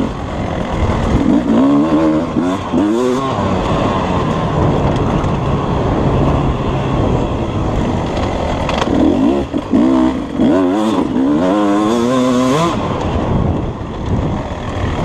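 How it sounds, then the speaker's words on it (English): A 2020 Beta 250 two-stroke dirt bike engine on a tight trail, running loud and close with rising and falling revs as the rider downshifts, the gear changes showing as quick pitch sweeps. "I'm gonna do a little downshift here."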